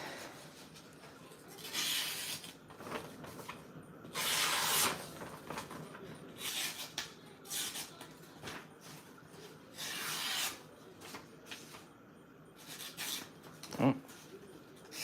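An M4 steel knife is drawn across a 400 Venev stone, a series of close, gritty rasping strokes in an uneven rhythm with short pauses between passes.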